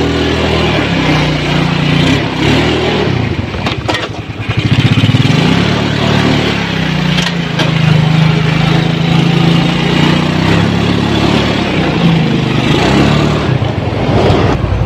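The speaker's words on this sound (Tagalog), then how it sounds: "Ito na boss yung motor. Tatestingin natin." A Yamaha Mio Sporty scooter with a stock exhaust pipe runs loud and close, its engine droning steadily, dipping briefly and then surging back up as it is revved.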